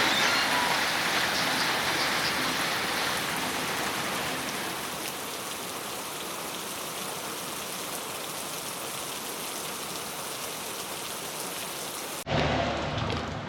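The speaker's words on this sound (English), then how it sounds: "so the rain stopped" Rain falls steadily on a shaded coffee farm in Venezuela, with coffee plants under tall trees. The downpour makes a dense, even hiss that eases slightly partway through, and the sound cuts sharply near the end.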